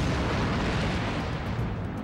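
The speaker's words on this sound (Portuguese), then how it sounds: "Sem dúvida alguma, uma explosão dessa magnitude num avião em voo seria simplesmente desastrosa e destruiria na hora o avião." An aircraft fuel tank test rig ignited by sparks explodes, heard as a dense, sustained roaring burst of broadband noise that stays loud and unbroken throughout.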